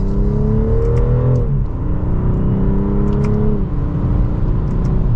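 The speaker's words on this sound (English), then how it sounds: "And in sport mode, second gear, here we go." A 2024 BMW 540i M Sport sedan accelerates hard in sport mode and second gear. The engine drone climbs steadily, drops briefly at two quick upshifts, then climbs again. It is loud, continuous and heard from close range.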